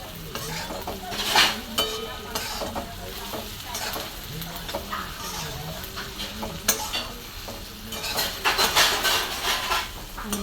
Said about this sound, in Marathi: आता मी अशी तोंडली सर्व टाकून घेतलेली आणि असं मिक्स करून घेणार चांगलं